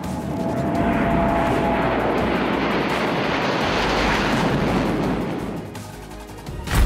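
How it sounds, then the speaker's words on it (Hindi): A Sukhoi Su-30MKI fighter jet roars loudly and steadily overhead as a broad, continuous engine rush, easing slightly near the end before a final surge. "रूस की मदद से बना ये फाइटर जेट किसी भी मौसम में मार करने की क्षमता रखता है।"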